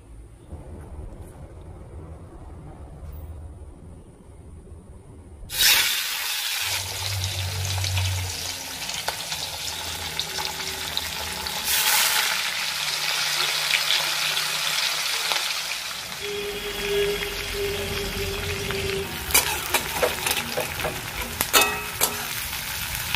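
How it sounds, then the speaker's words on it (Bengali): Chopped onions fry in hot oil in a village kitchen for a fish curry, a steady loud sizzle that flares up after a quiet start and continues with stirring and scraping, no talking. "এই যে পেঁয়াজটা ভেজে নিচ্ছি ঝোলের জন্য"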